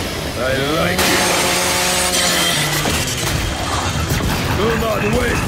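A chainsaw revs and grinds in the video game Gears 5 during the Hivebuster Escape mode, a loud buzzing roar mixed with combat noise and overlapping voices.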